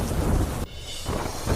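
Heavy monsoon rain pours with a loud rolling rumble of thunder in news footage, a dense continuous roar close by that dips briefly and swells back.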